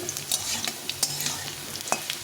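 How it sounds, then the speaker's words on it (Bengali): Potatoes frying in oil in a pan for a mustard-greens dish. A close, even sizzle is punctuated by quick spatula scrapes and stirring knocks, with no speech. "সুন্দরভাবে আলুটাকে ভেজে নিতে হবে"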